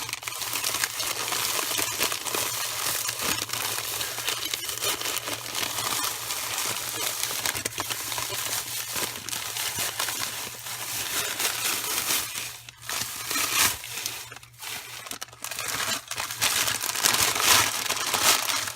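Bags of Easter basket stuffing are torn apart and crinkled by hand, making a continuous close rustle and crackle with brief louder crunches, and no one speaks.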